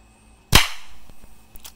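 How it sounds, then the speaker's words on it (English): A single sharp subsonic rifle shot fired outdoors with a soft point round, one close crack followed by a short decaying tail and faint echoes. "Shot three, subsonic."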